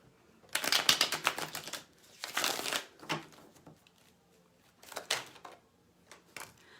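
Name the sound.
shuffling Deviant Moon tarot cards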